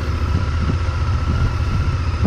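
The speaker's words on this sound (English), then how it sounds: "that engine sounds wonderful" A Honda Varadero XL1000V motorcycle's V-twin engine idles close by, a steady low throbbing rumble with even pulses and no voices.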